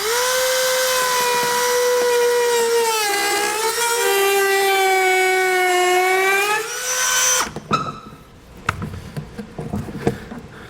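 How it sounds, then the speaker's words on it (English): A Dremel rotary tool whines steadily at high pitch while cutting plastic truck bed liner material on a 2012 Ram 2500, its tone dipping and rising under load before it stops, followed by scattered clicks and handling noises. "So being plastic, I'm going to use a Dremel tool."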